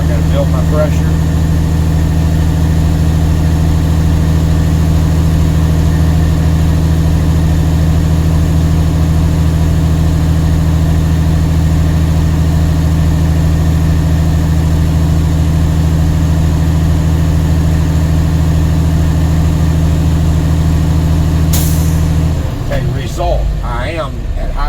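A truck engine idles steadily to build air brake pressure, a loud, constant low drone that continues without change and then drops away near the end.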